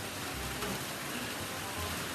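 Steady, faint rain falls evenly outdoors, a soft continuous hiss of drops with no pauses or other distinct sounds.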